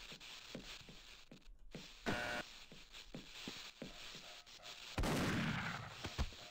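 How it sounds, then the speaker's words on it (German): Magnum revolver shots in a Half-Life mod game ring out as a series of sharp, loud bangs, about nine in all, spaced irregularly with brief quiet gaps and a heavier blast near the end. "Und die Magnum."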